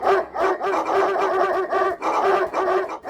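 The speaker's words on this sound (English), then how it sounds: "With a howl, Dennis summons the pack." A cartoon dog lets out loud, close, repeated barking and yelping calls in quick bursts, filling the short stretch without talk.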